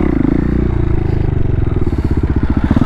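A stunt motorcycle rolls in slow, leaning circles at near-walking pace, its engine loud and close with a steady, lumpy idle-level throb and a little clatter, and no speech.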